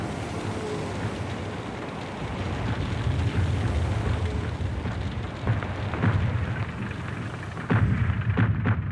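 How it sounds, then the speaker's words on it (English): Heavy booming blasts of artillery shells at Verdun in 1916, deep rumbling impacts rolling in repeatedly, with a few sharper reports toward the end. "The next salvo did better, crashing down on the railway station."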